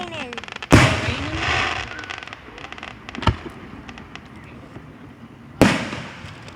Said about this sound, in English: Raining fireworks.